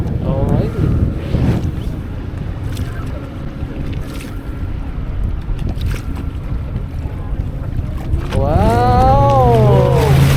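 A tour boat motor drones steadily on a glacier lake at Tasman Glacier, New Zealand, under wind and rushing water, and a voice rises near the end.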